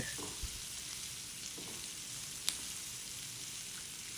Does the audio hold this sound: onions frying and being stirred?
yes